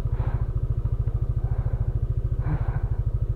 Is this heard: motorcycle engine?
yes